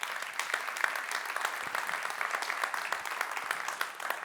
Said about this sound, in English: Give her a big round of applause, ladies and gentlemen.